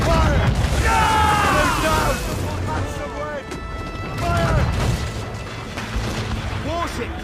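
Ship cannons firing during a naval battle in Assassin's Creed Rogue, heavy booming blasts over dense battle noise, with shouted voices and crew calls mixed in.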